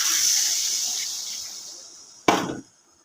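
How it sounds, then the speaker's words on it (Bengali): Water poured into a pot of nearly braised meat gives a loud, close hiss that slowly fades, then a short sharp burst of sizzle before it cuts off. "মাংসটা এখন আমি একটু জল দিয়ে দেবো। আর এই যে আমি জল দিয়ে দিলাম।"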